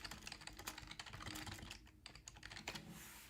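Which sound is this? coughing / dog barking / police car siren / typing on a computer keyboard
typing on a computer keyboard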